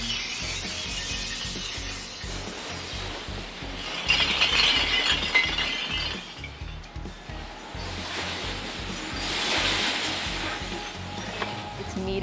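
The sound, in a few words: glass bottles dumped into a crushing machine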